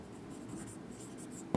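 Chalk or marker scratching on a board during a botany lesson, a soft continuous scraping for a second and a half that ends with a single sharp tap.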